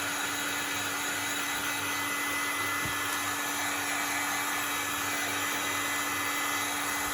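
A heat gun blows hot air steadily while working on a Christmas traveler's notebook, a constant close whooshing roar with a faint hum underneath and one small knock partway through.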